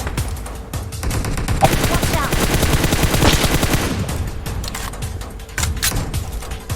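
Dense automatic and rapid gunfire from a PUBG Mobile battle fills the scene loudly and nearly nonstop, with bursts overlapping and a brief lull before more shots near the end.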